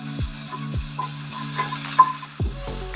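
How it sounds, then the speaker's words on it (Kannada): Garlic and onion fry in a pan with a steady close sizzle, broken by several sharp utensil clinks and scrapes against the pan; no one speaks. "ಬೆಳ್ಳುಳ್ಳಿ ಒಂದು ಈರುಳ್ಳಿ ಇದನ್ನು ಸ್ವಲ್ಪ ಚೆನ್ನಾಗಿ ಫ್ರೈ ಮಾಡ್ಕೊಳ್ಳೋಣ"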